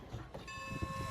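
A steam locomotive train on the Strasburg Railroad, a tourist line in Pennsylvania, rumbles along with a steady low running sound and a sustained tonal whistle-like ring entering midway, moderately loud and without talk.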